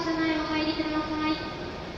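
An E7 series Hokuriku Shinkansen Hakutaka train pulls out of Kanazawa station, giving a steady loud tonal hum with harmonic whine over broad rumble while a platform announcement voice speaks.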